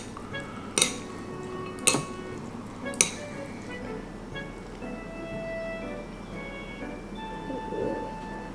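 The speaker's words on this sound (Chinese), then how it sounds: "搅拌均匀。" A spoon stirs mashed potato made from potato chips and hot water in a bowl: three sharp clinks against the dish come early, then soft, faint scraping continues.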